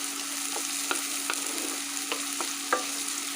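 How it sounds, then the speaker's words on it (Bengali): Chopped onions frying with garlic in a pan, a steady close sizzle with occasional light scrapes and taps from stirring, moderately quiet and without any talking. "পেঁয়াজটাকে অবশ্যই লাল লাল করে ভাজতে হবে।"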